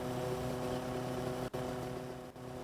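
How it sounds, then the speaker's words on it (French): Motorcycle engine in the Roblox game Livetopia, riding up a flight of stairs: a steady synthetic engine drone with a constant pitch, running continuously with two brief dropouts. "Je monte les escaliers en moto."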